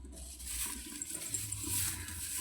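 Water poured into a cooking pot while making pilau rice, a steady splashing, gushing stream at close range lasting the whole moment with no voices.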